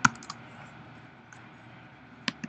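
A computer keyboard is tapped in a few sparse, close keystrokes, clustered at the start and near the end of a quiet stretch, with no voices.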